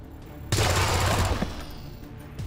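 A gunshot in XCOM 2 bursts in loudly and is followed by a dense roar that tapers off over about a second and a half.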